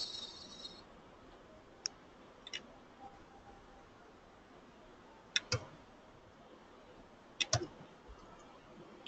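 Computer mouse clicks come as a few sharp, isolated ticks spread over quiet room noise, single and double clicks close to the microphone, with no talking.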